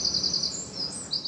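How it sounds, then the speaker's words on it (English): Several high, bright bird chirps and short trills echo inside an underground tunnel turned into a garden, repeating in quick phrases over a faint low hum, with no voices. "Birdsong, bouncing off tunnel walls, sprouting foliage."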